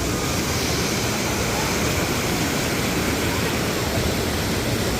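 Steady broadband rush of churning water from the River Rampage river-rapids raft ride at Dollywood theme park, a continuous loud roar that fills the whole scene without a break.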